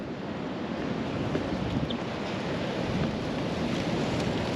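Ocean surf breaks at a beach beside big sand dunes at Canaveral National Seashore, a continuous broad roar of waves mixed with wind rushing over the microphone, steady and fairly loud with no voices.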